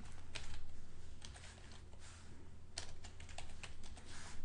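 Quick, light clicking of keys on a computer keyboard as a name is typed into a paint program, an uneven run of soft taps at close range with no talk.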